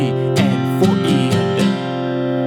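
Acoustic guitar strumming two measures of a song at a slow, steady pace, with ringing chords and four clear strum accents over a sustained tone that fades at the end.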